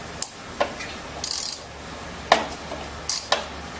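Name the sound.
3/8 drive ratchet with 7/16 socket loosening pump cover bolts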